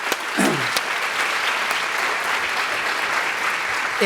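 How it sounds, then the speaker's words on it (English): An audience at a moderated panel event gives a strong, continuous round of applause, with full, even clapping filling the room and an occasional cheer rising above it. "maybe a big round of applause for Steve and Michelle and Jeff."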